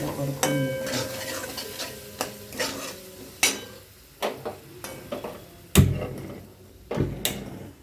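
Vada pav ingredients being mixed in a bowl at home, a series of irregular scraping and clacking strokes of a spoon against the bowl, fairly close and loud, with no talking.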